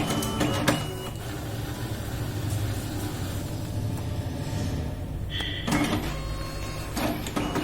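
An Evolis Primacy card printer runs a test card with a steady close mechanical whir and feed noise. A few sharp clicks come early, and a brief high whine and clunks of card handling come near the end.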